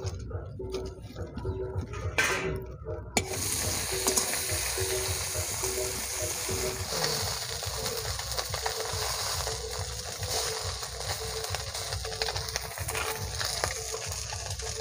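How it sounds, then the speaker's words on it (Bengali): Fish frying in oil in a wok, giving a steady broadband sizzle and crackle that runs the whole time at a close, even level, with a brief clatter near the start. "কড়াইতে তেল দিয়ে মাছগুলো ভেজে নেব।"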